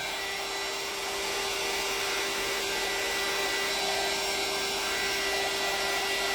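A hair dryer blows steadily to dry stain on an MDF wood craft piece, making a constant loud whooshing whine with a fixed motor tone that runs unbroken throughout.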